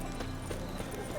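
Roach the horse clops along in The Witcher 3, hoofbeats steady and close under a dense wash of game ambience and a voice talking over it.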